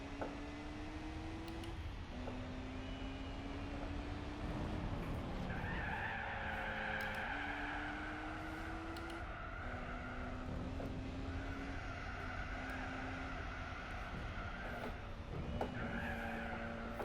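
In Gran Turismo 4, a Lotus Elise understeers and skids, its tires squealing in long wavering tones over a steady engine drone, fairly faint, with no voices.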